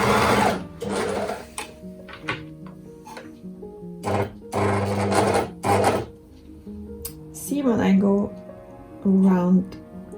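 Sewing machine stitching skirt fabric in several short bursts of rapid needle chatter, separated by pauses and handling noises, recorded close up.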